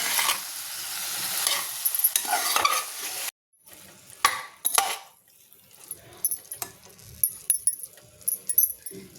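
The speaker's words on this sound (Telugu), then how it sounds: "ఒకసారి అంతా బాగా ఫ్రై చేసుకుందామండి" Cauliflower that was soaked in hot water fries in a pan with a loud, hissing sizzle, then a spoon stirs it in close scraping strokes while softer frying continues.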